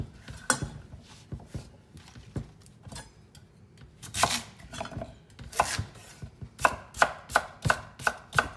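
Knife chopping potatoes on a cutting board in a home kitchen, a steady run of sharp, close chops with brief pauses, quickening into a fast, regular rhythm toward the end.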